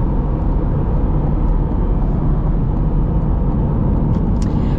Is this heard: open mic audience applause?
no